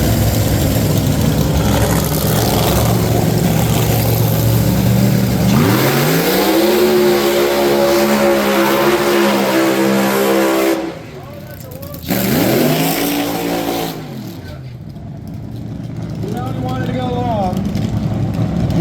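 NHRA Top Alcohol drag racing cars at the Pomona dragstrip on a Saturday night: loud engines roar and idle, then rev hard in rising sweeps with brief drops between, under steady commentator talk.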